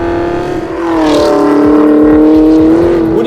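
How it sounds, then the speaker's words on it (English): A sixth-generation Chevrolet Camaro ZL1 V8 revs up close and loud, its engine note climbing through an acceleration and holding at a hard, rasping roar, with no speech. "What this is a tarmac ripping machine that loves lighting its rears up at any given opportunity."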